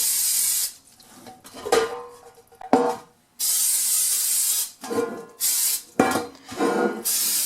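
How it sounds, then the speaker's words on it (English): Several bursts of hissing olive oil spray onto bread pans, some long and some short, separated by quiet gaps with clunks and tapping of the pans being handled. "Spray these down with some olive oil."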